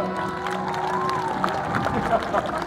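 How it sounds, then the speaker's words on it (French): In a Roman arena scene from an Astérix film, a crowd of Romans applauds and cheers. The sound is a dense, steady roar with scattered claps and whoops, and no voice stands out. "Romains, Romaines, applaudissez à tout rompre"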